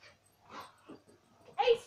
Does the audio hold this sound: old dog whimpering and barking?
yes